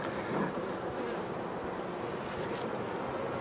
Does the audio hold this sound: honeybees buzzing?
yes